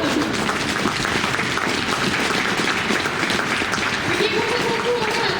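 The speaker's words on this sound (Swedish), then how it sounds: "En stor applåd." Crowd applause at an outdoor horse event about endurance riding, a dense continuous wash of clapping with voices mixed in, moderately loud throughout.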